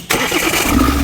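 A Mahindra Scorpio BS6 engine with a pickup fault (code P0047) cranks and catches after a short quiet moment, then holds a loud, steady running rumble close by, with no talking.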